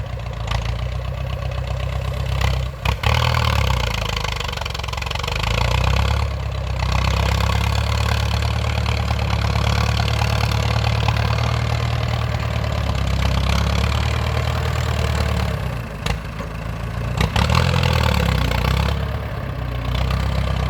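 Ford 6610 tractor engine running steadily at idle, a close, continuous low diesel rumble that holds level throughout, with two brief dips in loudness.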